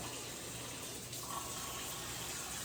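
Tap water running steadily from a faucet while hands are washed at a sink, a constant, even rushing spray from start to end, close and moderately quiet, with no talk.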